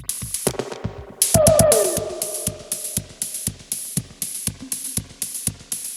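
Vintage drum machine playing its space drum voice: a lo-fi electronic beat of evenly spaced clicky hits with a bright hiss on top, interrupted by a swooping pitched synth tone that bends downward before the steady pattern resumes.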